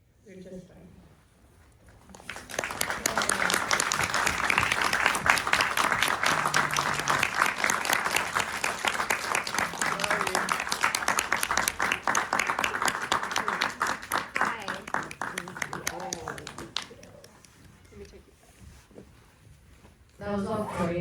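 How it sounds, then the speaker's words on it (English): Sustained audience applause fills a room after a film screening Q&A with a filmmaker and a photographer, many hands clapping steadily at moderate distance for about fourteen seconds before fading, with brief talk at the edges. "Thanks for more applause."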